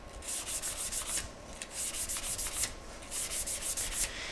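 A drone rotor is sanded by hand with 400 grit sandpaper in a quick back-and-forth rhythm of close, raspy strokes, several in a row, with a brief pause midway.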